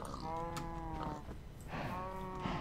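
Witchwater cow in Minecraft's FTB SkyFactory modpack lowing twice, a long drawn-out moo followed after a short pause by a second one, close and clear over faint background game noise.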